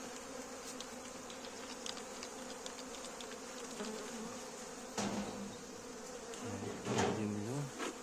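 Honey bees buzz steadily around an opened hive during an early-April spring expansion, a close, continuous drone with brief louder swells and a faint word or two spoken nearby.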